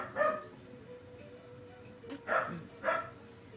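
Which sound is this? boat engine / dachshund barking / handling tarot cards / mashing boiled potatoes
dachshund barking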